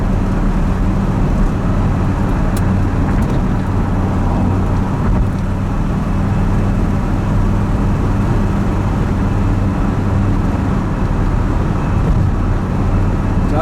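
An older Corvette in need of some work cruises along a road, its engine and tire rumble forming a steady, loud low drone with road noise throughout.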